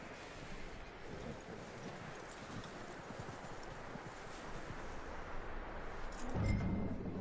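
Steady clip-clop of horse hooves from Red Dead Redemption 2, a soft, continuous trotting rhythm under a constant outdoor wind-like wash, with no talking.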